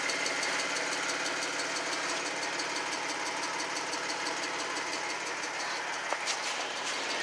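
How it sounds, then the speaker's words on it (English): A 2010 Jeep Wrangler engine idles steadily, a constant mechanical hum with a faint ticking knock running through it. No one speaks and the level holds even throughout. "I do have the vehicle running if you want to take a listen."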